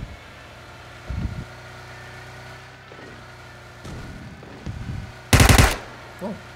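Bursts of gunfire ring out in PUBG Mobile on the snowy Vikendi map: a short volley early, scattered shots midway, then one loud sharp burst near the end over a steady vehicle engine hum, with no talking.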